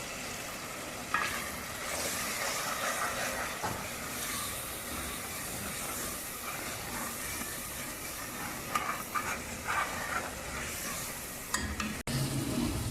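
Spices (turmeric, mustard seeds and nigella seeds) are added to a hot pan for chatpati daal chana with lauki, giving a steady, fairly quiet sizzle with occasional stirring scrapes and clicks.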